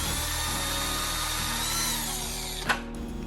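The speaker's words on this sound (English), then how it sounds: "I used a smaller drill bit to go ahead and go into the helmet" A power drill with a small bit whines steadily at close range, drilling into a Biltwell Gringo S motorcycle helmet, then cuts off abruptly with a brief clunk near the end.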